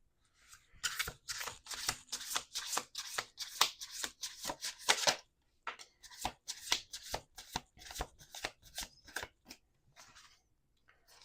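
A deck of tarot cards is shuffled again and again in quick, crisp riffling bursts that are close and clear. A short pause comes near the middle, and no one talks over it.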